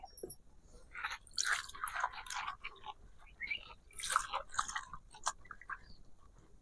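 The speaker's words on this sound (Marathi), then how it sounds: "म्हणून आपण हे धुवून घेऊ" Hadga flowers being rinsed in water by hand, with wet squishing, splashing and dripping in irregular bursts, close and fairly quiet, with no talking.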